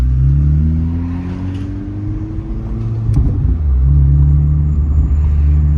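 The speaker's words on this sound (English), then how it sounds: "the Invidia Q300 is historically one of the quieter aftermarket exhaust options" A 2023 Acura Integra Type S with an Invidia Q300 aftermarket exhaust and catted downpipe, in Sport Plus with the valve open, gives a smooth, low, non-boomy drone that rises and settles under light throttle, heard from inside the car.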